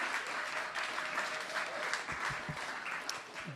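Audience applause closing an evening live-storytelling show in a theater, a dense steady wash of many hands clapping at full strength for the whole stretch, with faint scattered whoops.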